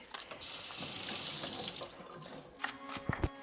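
Cavolo nero kale is rinsed under a running kitchen tap. A steady stream of water splashes for a few seconds, then gives way to close handling clatter near the end.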